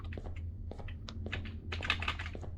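Computer keyboard typing during gameplay, a steady patter of close keystrokes with quicker bursts, over a low background hum.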